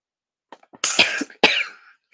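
A person coughs several times in quick succession, with a couple of soft throat sounds first and then two hard, raspy coughs close to the mic, followed by a brief pause.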